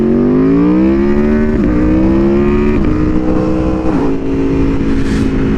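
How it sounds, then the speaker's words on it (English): An Aprilia Tuono V4R motorcycle with an Arrow slip-on exhaust idles loud and close with a deep, throaty exhaust grunt, holding a steady, even pitch with small blips. "I have an Arrows slip-on exhaust on this thing, and it just really brings that grunt out of this V4"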